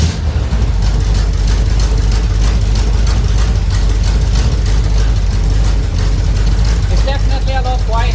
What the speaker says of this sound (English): we can still hear that rough idle, which I really like